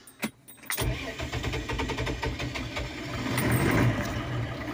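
A Case 1594 Hydra-shift tractor starts after a few short cranking knocks, then its diesel engine settles into a loud, close running note and revs up toward the end.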